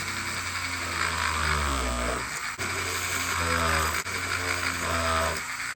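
A tiny carbide drill bit whines in short, high-pitched bursts close by, each run rising and falling in pitch, with brief pauses between passes while drilling parts for an RC S-64E Sky Crane model.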